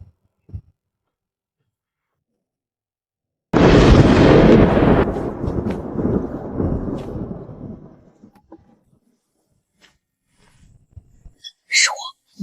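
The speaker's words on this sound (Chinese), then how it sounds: "怕打雷？" One sudden, loud, close thunderclap breaks an otherwise silent night indoors during a storm power cut, then rolls and fades over several seconds, followed by a few faint scattered sounds.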